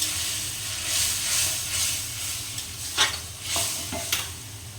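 Ground spice masala frying in a pan in a home kitchen, a steady close sizzle and hiss with occasional scrapes of stirring, no talking.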